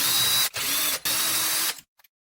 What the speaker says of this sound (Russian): Итак, открутили обмоточку нашу.